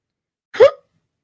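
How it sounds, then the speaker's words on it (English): One short, sharp hiccup from a person, heard up close against complete silence. "I got the hiccups."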